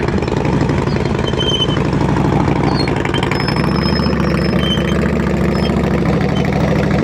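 A motorcycle engine with the throttle held steady during slow-speed riding practice gives a loud, continuous low chugging rumble that runs unbroken from start to finish.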